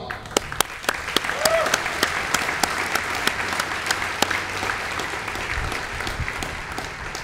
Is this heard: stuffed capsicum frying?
no